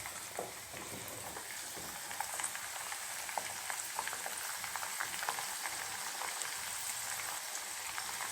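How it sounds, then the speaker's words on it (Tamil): Coconut oil with dried hibiscus leaves boiling in a pan, a faint, steady bubbling and sizzling hiss with small crackles throughout. "இந்த மாதிரி கொதிக்கட்டும்."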